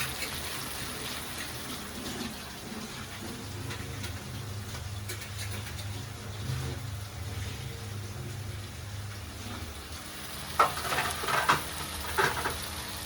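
Tomatoes frying in a pan for chicken-stuffed bitter gourd, a faint low sizzle throughout with a few sharper clinks and stirring sounds near the end, close and without talk.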